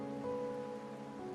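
Steady rain falls in the Wuthering Waves video game, a soft even patter under a low sustained musical drone, with no voices present.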